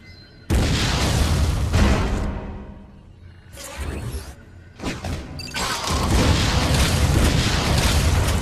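A missile launched in the video game Metroid Other M, with loud booming blasts and whooshing bursts in heavy surges, a brief lull between them, then a sustained roaring explosion.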